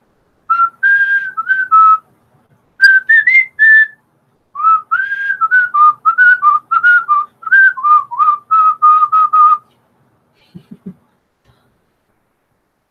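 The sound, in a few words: person whistling a tune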